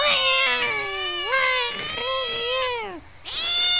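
A black cat yowls loudly in the horror game Shadow Corridor, a series of long, wavering, rising and falling cries that break briefly and start again, close and dominant over a low background drone.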